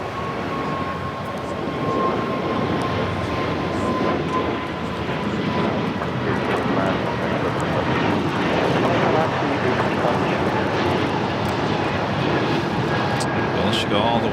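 An airliner on its takeoff roll from runway 25 right at Los Angeles airport, its jet engines producing a loud, steady roar that holds throughout, with voices talking over it.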